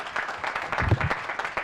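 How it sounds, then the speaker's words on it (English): Audience at an annual general assembly clapping, a modest patter of scattered hands that swells briefly midway, fairly faint with a few voices mixed in. "so clapping for all"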